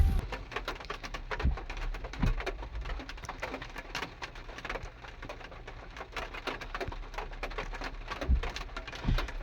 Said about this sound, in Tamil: ஆமாம், நல்லா மழையும் பெஞ்சிட்ருக்கு